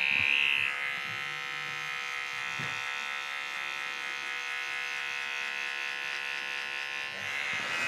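Electric hair clippers give a fade haircut in a barbershop, producing a steady, close, loud buzz that holds for several seconds with a brief change in pitch near the start and end.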